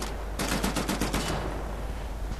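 Machine gun fire in Wolfenstein: The New Order, a rapid burst of about a dozen evenly spaced, loud close shots lasting roughly a second, then a lingering noisy tail.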